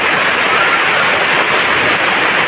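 Heavy rain pours down steadily in a continuous, dense wash, loud and close, swelling stronger with no pause, no voices.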